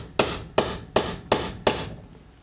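Five sharp metallic hammer strikes land on a rivet setter to seat a rivet cap, evenly spaced and close, each ringing briefly before the next.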